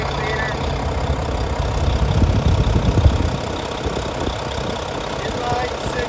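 A Mack 12.8 liter inline 6-cylinder diesel engine in a 2011 Mack CXU613 flatbed truck idles with a steady low rumble, while someone talks over it.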